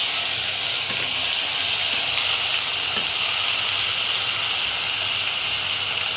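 Kochur loti (taro stolons) frying with tomato, green chilli and garlic paste, a steady loud sizzle and hiss of oil throughout with faint stirring, no talk.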